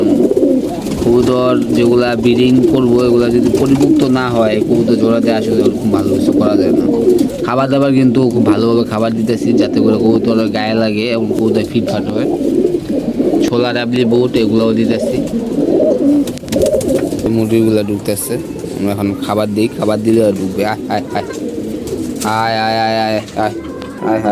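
Pigeons kept for pairing in a new cage coo in soft, repeated throaty phrases, close and steady, while someone talks over them throughout.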